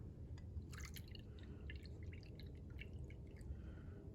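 Water trickles and drips as half a cup is poured onto glue on a plate for slime, a soft, quiet liquid splash with scattered droplet ticks over a few seconds.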